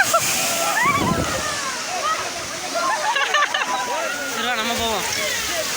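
Water rushing and splashing at the Silver Storm water park in Kerala, a continuous churning wash with bursts of spray, close and loud, with excited voices shouting over it.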